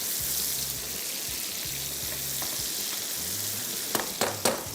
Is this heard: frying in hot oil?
yes